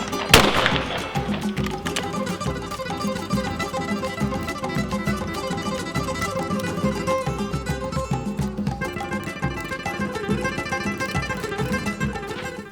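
A 20 gauge shotgun fires a reloaded Universal hull shell, a sharp loud blast at the start that rings out and decays into lingering outdoor noise.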